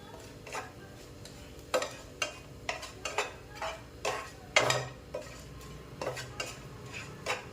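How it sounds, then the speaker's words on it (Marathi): Coconut being dry-roasted in a pan for flax seed chutney, with a spoon stirring and scraping against the metal in a series of distinct, moderately loud clinks and scrapes at an uneven rhythm. "आपल्याला हे खोबरे चांगलं भाजून घ्यायचं आहे"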